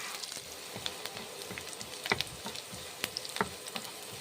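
Sliced onions fry in a pan for a bitter gourd mash, giving a soft, steady sizzle broken by scattered small pops and spatula scrapes.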